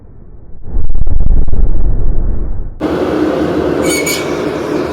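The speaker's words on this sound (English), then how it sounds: "Forge is in place, just got to touch the blower and let's light it up." A blacksmith's forge blower starts with a heavy, thumping rumble, then cuts abruptly to a steady rushing roar of air feeding the newly lit fire, close and loud.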